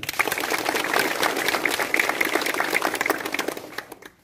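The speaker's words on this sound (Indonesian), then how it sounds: "Tepuk tangan dulu" Students at a morning school assembly clap together, a lively patter of many hands that swells early, holds steady, and fades out near the end.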